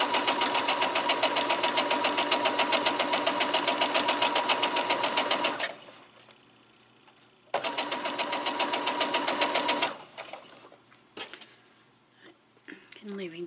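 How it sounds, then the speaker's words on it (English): A sewing machine stitches quilt segments with a quarter-inch seam, running in a fast steady rhythm for about five seconds, pausing, then running again, followed by quiet handling noises. "And we're just stitching along carefully."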